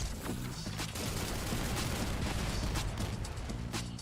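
Dense, continuous explosions and gunfire from The First Descendant, crackling and booming in rapid overlapping bursts throughout, loud and unbroken.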